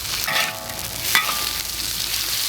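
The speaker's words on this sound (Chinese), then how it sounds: "辣椒和洋葱下进去爆炒" Chilli and onion stir-fried in a wok give off a steady, close sizzle, with a brief metallic clink near the middle.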